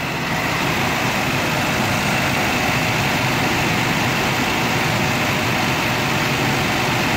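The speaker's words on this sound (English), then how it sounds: "so that's the HT4100 on a cold start." A 1984 Cadillac Eldorado's HT4100 V8 idles steadily after a cold start, producing a constant, smooth, even engine drone that stays close and loud throughout with no change in pace.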